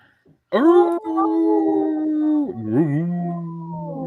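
A wolf's long, loud howl rises and holds steady, then drops into a lower, wavering second note, opening a sponsor segment on a radio show.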